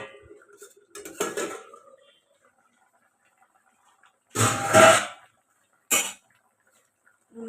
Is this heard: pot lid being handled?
yes